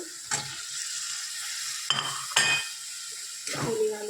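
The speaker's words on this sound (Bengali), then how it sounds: "এবার আমি দিব পনির আর আলু" Paneer and potatoes are added to a hot pan and fry: a steady sizzle broken by several sharp clatters and scrapes of a utensil against the pan, close and fairly loud.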